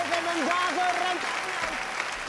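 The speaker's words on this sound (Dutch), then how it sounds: "Geef hem een daverend applaus" A circus crowd applauds a volunteer called up from the audience, a steady wash of clapping with tonal, gliding sounds running over it.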